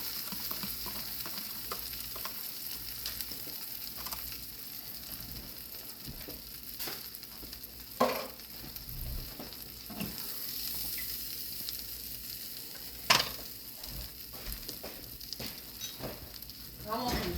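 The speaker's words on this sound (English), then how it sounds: "So now just gonna dump my eggs." Eggs seasoned with onion powder and seasoning salt sizzle and fry steadily in a pan, a continuous crackle with occasional scraping stirs and a couple of sharper clanks.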